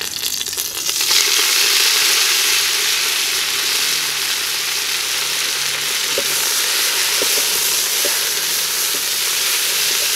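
Kangkong (water spinach) hits a pan of golden-browned garlic, setting off a loud, steady sizzle that fills the whole clip. A few faint clinks of stirring sound beneath it, and no one speaks.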